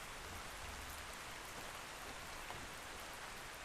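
Steady rain falls in the video game Ark, a dense, even hiss of drops on surfaces that holds at constant loudness throughout with no talk over it.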